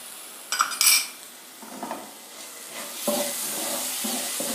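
Ginger garlic paste sautéing in a little oil in a pan, opening with a few sharp metal clinks of a utensil and then a soft, steady sizzle close by with occasional light scrapes.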